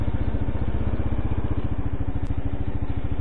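A Kawasaki KLR 650 single-cylinder engine idles with a close, loud, steady thumping pulse and mechanical clatter, heard alone without talk.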